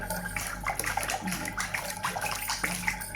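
Running water being let out to bathe a calf, a continuous splashing and gurgling flow with bursts of droplets, fairly close and steady.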